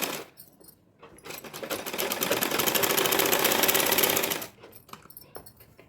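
A sewing machine stitches two pieces of fabric together for an Anarkali gown made from an old sari. After a few faint clicks, a loud, steady mechanical whirr runs for about three seconds, then stops abruptly into quiet handling sounds.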